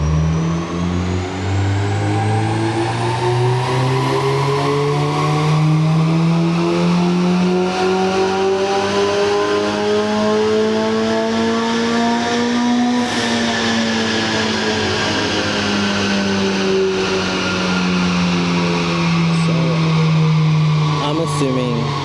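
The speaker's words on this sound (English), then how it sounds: "Assuming that was a 4th gear pull." A tuned car fresh from CMS Performance pulls hard in fourth gear, its engine note climbing steadily and loudly for about thirteen seconds before easing back down, with a constant roaring drone and no talking.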